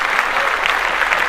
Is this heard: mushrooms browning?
no